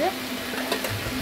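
Fish frying in a pan, a steady broadband sizzle running throughout at moderate loudness, with a brief brighter flare of spattering near the end and no talk.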